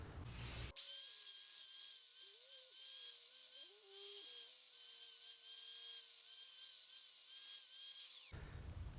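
A high-speed power tool cutting a nut while a hydraulic brake kit is fitted to a Nissan 350Z: a loud, shrill, continuous whine whose pitch wavers under load for about eight seconds, then cuts off, close by, with no voices.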